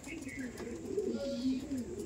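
A Giribaz pigeon coos in a loft with many birds, repeated soft low coos in a steady run under faint background chatter.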